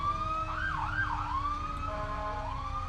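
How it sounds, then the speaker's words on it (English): A 1992 3,000-gallon fire tanker's siren wails and warbles at a Christmas parade downtown, rising and falling in pitch at moderate distance over a steady crowd and street background. "Everybody loves the horns and the sirens and the sounds"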